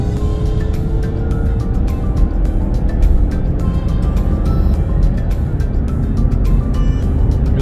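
A Mazda CX-9 Signature SUV accelerates with a smooth, steady engine hum that holds evenly throughout, accompanied by light road and cabin noise and no talking.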